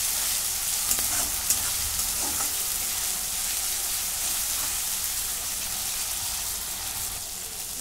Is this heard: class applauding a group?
no